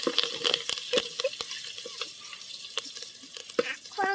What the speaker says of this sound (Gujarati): તેલ ગરમ થઈ ગયું છે. હવે નાખી દઈએ આપણે જીરું અને વઘાણી, મીઠો લીમડો.